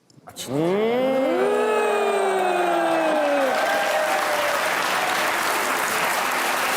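Studio audience applause on a comedy talk show, breaking out suddenly and holding loud and sustained, with a drawn-out voice cry sweeping over the start.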